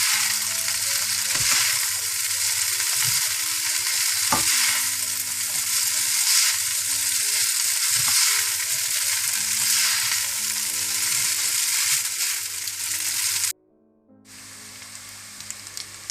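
Hakka noodles sizzle steadily in a hot pan, a loud continuous frying hiss with occasional stirring clacks, then cutting out abruptly near the end before a quieter sizzle resumes.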